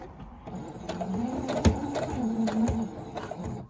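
A sewing machine stitching elastic onto a fabric face mask, a close, steady mechanical whir with rhythmic needle taps, running alone without talk.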